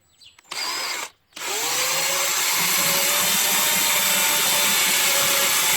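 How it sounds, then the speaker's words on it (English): An electric drill whirs in a short burst, pauses briefly, then runs steadily and loudly up close for several seconds, drilling a small hole through a 2000 VW Jetta door panel. "So I'm going to drill a hole through this. Drill a small hole."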